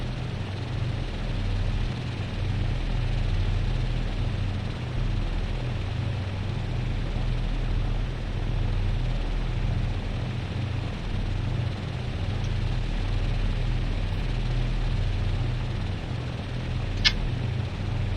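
A WWII Lockheed P-38J's engines idle at about 1200 rpm in a Prepar3D flight simulator, giving a steady, even low drone that holds unchanged throughout with no talking.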